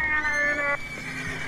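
A horse in a video game gives a single bright neigh lasting under a second, clear and close, followed by quiet game ambience.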